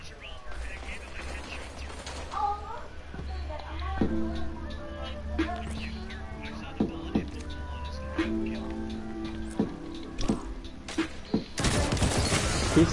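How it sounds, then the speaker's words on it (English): Shotgun blasts crack out in the Destiny video game, several sharp, spaced bursts amid mechanical clicks and game tones, with a voice talking throughout. "He's still using the shotgun"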